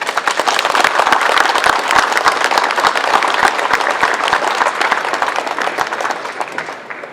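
Warm, steady applause from a hall of fame ceremony audience in St. John's, Newfoundland, dense and continuous clapping from a large crowd that fades slightly toward the end.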